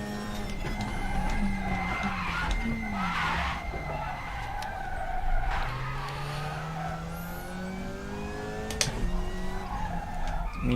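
A touring car on a qualifying lap in the RaceRoom sim racing game, its engine note rising and falling steadily through gear changes, with occasional tyre squeal over a constant, fairly loud drone.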